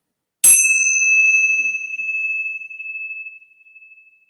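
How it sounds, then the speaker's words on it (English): A single bright meditation bell is struck once during a yoga session and rings out clearly, its pure tone sustaining and slowly fading toward silence over several seconds. "let me ring the bells"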